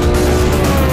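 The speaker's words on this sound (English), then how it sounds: "It's the Porsche leading the way." A Porsche supercar roars past at racing speed in a short, loud, steady blast of engine and road noise, very close.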